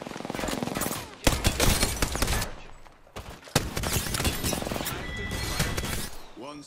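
Rapid gunfire bursts in the Apex Legends battle royale shooter, loud and dense, broken by brief pauses around a firefight, with game sounds and a few other noises mixed in.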